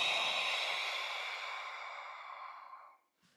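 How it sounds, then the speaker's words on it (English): A single long, forceful open-mouthed exhale with the tongue out, a lion-breath yoga exercise, breathy and close, fading steadily over about three seconds before silence. "Take a deep breath in through your nose. Open your mouth, stick the tongue out and let go."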